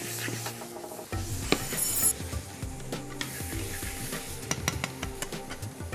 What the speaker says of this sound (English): I want to just brown the meat and carry on cooking the onions along with it